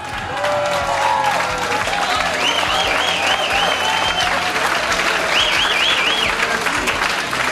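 Sustained audience applause at a charity ski race event after an auction, dense steady clapping with some crowd noise and whistle-like tones over it throughout.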